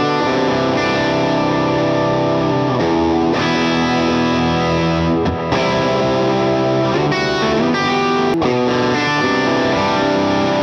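Electric guitar with distortion and effects plays a steady, dense, aggressive rock pattern of sustained chords and notes, loud and continuous throughout with no talking.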